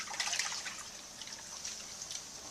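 Soft, close trickling and swishing of water being stirred in a small container to mix it before a pH test, faint sloshing bursts with brief pauses and no talk.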